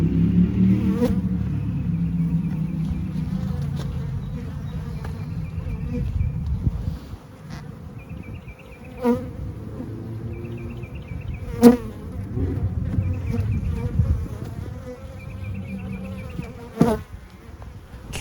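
Honey bees in a weak hive buzzing in a dense, continuous drone, with occasional sharp knocks and clicks from handling the frames close by.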